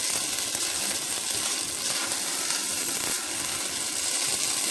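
Rice with tomato sauce being stirred in a pot, a steady soft scraping and sizzling texture that runs continuously and close by without any talk.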